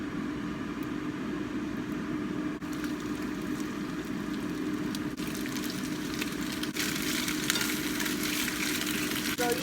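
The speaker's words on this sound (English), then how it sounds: "We're gonna cook the shrimp first. You can, so you just lay it down. The pan is kind of hot. Lay each one down." Raw shrimp laid one by one into a hot oiled pan sizzle in a steady, fairly loud fry that runs unbroken throughout, with no voices.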